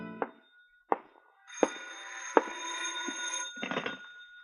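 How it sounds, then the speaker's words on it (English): An old-fashioned telephone rings in a sequence of short bursts, with sharp bell strikes and a lingering metallic ring, fairly quiet and isolated with no talk. "the phone ringing that came from the phone."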